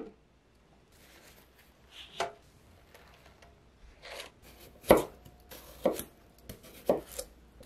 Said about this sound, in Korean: 너무 두껍거나 얇지 않게 어슷하게 썰어주세요